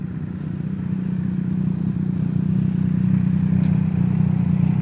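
A Triumph motorcycle rides along the road nearby, its engine a steady low drone mixed with traffic rumble, holding fairly constant with faint higher clicks toward the end.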